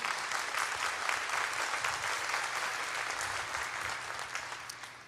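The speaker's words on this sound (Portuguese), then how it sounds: "Pode aplaudir." Sustained applause from an audience at a church gathering, dense clapping from many people that holds steady and then begins to fade toward the end.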